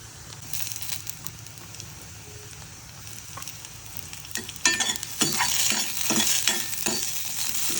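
Brinjal pieces and green chillies frying in a pan for a chutney: a soft sizzle that swells louder partway through, with rapid crackling, spattering and the scrape of stirring close by, no talking.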